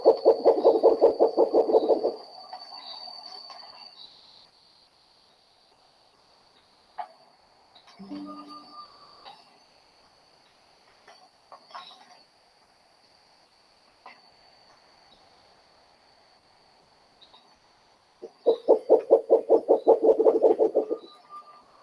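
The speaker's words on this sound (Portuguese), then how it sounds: "Aí eu trouxe aqui a vocalização da murucututu." Spectacled owl (murucututu) calls: two bursts of rapid, pulsing low hoots at the start and end, separated by a quiet stretch with faint scattered night sounds and a steady high insect-like tone.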